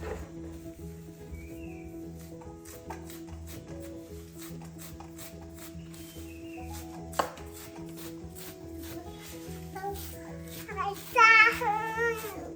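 A knife chops thick pumpkin leaves on a board for a thorn dish, producing steady, close, rapid cuts in a regular rhythm. A brief high chirping or child-like vocal sound follows near the end.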